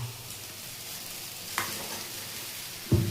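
Low sizzle of spiced potatoes frying in a pan for Bengali potol kosha, then a sharp scrape of stirring, and a louder burst of hissing as pointed gourd is dropped in at the end.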